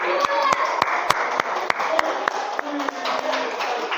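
A classroom applauds a student group with sharp, fairly sparse handclaps at an irregular pace, close and loud, with people talking over the clapping throughout.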